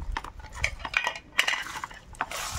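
A utensil scrapes and clinks against a metal pot while ginger paste and other ingredients are stirred together, making irregular close metallic taps and rustling scrapes.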